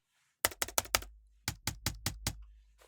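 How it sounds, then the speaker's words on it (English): Typing on a Keychron B6 Pro scissor-switch keyboard with a rattly, hollow spacebar: two close bursts of crisp key taps, four quick strokes, then a pause, then five more, heard alone and up close. "The spacebar also, of course, has a lot of rattle, and it does have a bit of a hollow sound in addition to that rattle."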